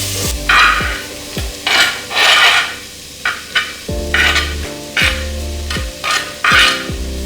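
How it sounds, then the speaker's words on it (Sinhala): Chopped onions and green chillies fry in oil for a railway mutton curry, with loud bursts of sizzling and repeated scraping stirs of a spoon across the pan. Strong tonal rings also recur through it. "පාට වෙනකොට මේකට අපි කපාගත්ත ලුණුයි අමු මිරිස් ටිකයි දාලා බැද ගන්නවා"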